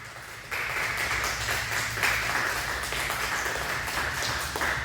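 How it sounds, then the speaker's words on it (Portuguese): Congregation at a church service breaks into sustained applause for Jesus, a dense continuous clapping that swells in after a brief quieter moment, with music under it. "vamos aplaudir a Jesus"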